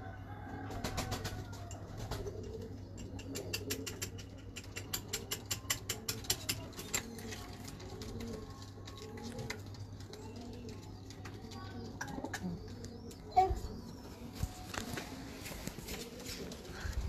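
Pigeons kept by a breeder coo softly at a distance in a low, repeated rhythm, joined by scattered clicks and a faint mechanical hum, with one brief louder knock near the end.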